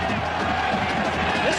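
Dense roar of a large stadium crowd at a Wisconsin Badgers football game against Michigan, a steady wash of cheering with announcer talk over it.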